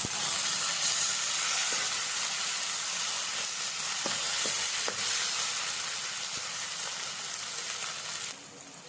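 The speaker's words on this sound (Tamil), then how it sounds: "தக்காளி நல்லா வதக்கி வரணும், நல்லா மேஷாக வதங்கி வரணும்." Tomatoes, ginger and garlic sautéing in a pan for prawn gravy give a steady, close sizzling hiss that runs throughout, with a few faint clicks, then drops slightly in level near the end.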